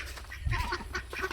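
Ducks quacking nearby, a short burst of several nasal quacks overlapping one another over about a second.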